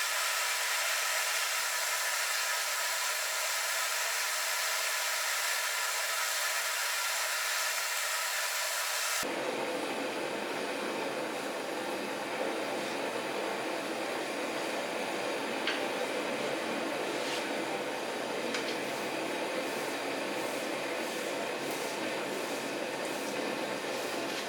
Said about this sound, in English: So we can go ahead, light the forge, and get this bad boy normalized